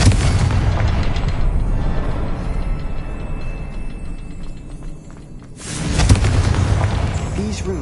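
The Confringo fire spell in Hogwarts Legacy blasts twice: a loud rumbling explosion at the start that slowly fades, then a second sharp, booming burst several seconds later.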